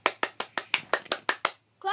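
A single pair of hands claps nine times in a quick, even rhythm, close and crisp, then stops briefly before a voice begins speaking.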